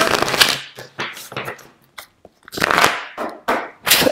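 Tarot cards are shuffled and drawn by hand, with close, loud riffling and sliding bursts in an uneven rhythm and brief gaps between them.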